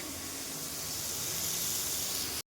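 Ridge gourd and potato frying in a pan give off a steady loud sizzling hiss that runs unbroken before cutting off abruptly.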